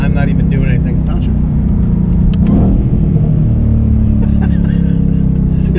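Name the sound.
2021 Shelby Mustang GT500 engine accelerating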